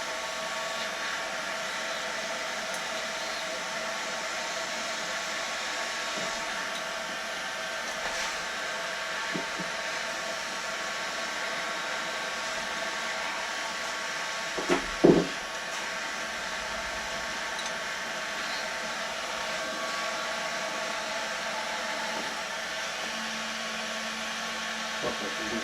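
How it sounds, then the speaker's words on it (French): A heat gun warms the cylinder head studs on a 2.0 HDI 110 hp engine, making a steady, close blowing roar that holds throughout. A brief metallic clank cuts in midway. "J'ai pris tout de suite le décapeur pour éviter que la température elle redescende au niveau de la culasse"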